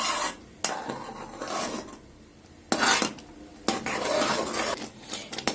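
Caramel pudding ingredients with a vanilla pod being stirred in a pot, giving bursts of scraping and clinking of a utensil against the metal in irregular strokes, close and fairly loud, with quieter pauses between.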